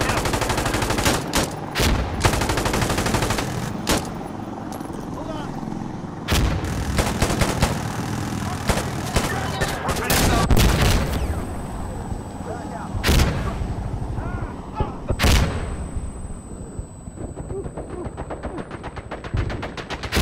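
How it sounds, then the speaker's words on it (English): Frag grenades booming and rifle and machine-gun fire crackling across an Insurgency: Sandstorm firefight, dense and loud, with repeated sharp shots and heavy blasts throughout. "And they're throwing frags all over the place."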